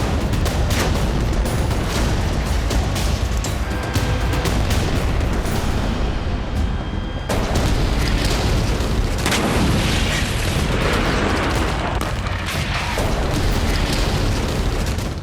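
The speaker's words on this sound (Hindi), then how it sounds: "खान यूनिस कैंप के अल करारा पर इजरायली वायुसेना ने हमला किया।" Heavy, continuous booming and rumbling from Israeli air strikes on the Khan Younis camp in southern Gaza, with dense overlapping blasts filling the whole stretch and no voices.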